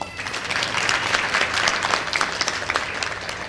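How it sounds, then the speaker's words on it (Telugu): An audience at a devotional recital of the Sivananda Lahari claps together in a lively, crackling burst that swells, holds steady, then thins out. "ఒకసారి చప్పట్లు కొట్టండి"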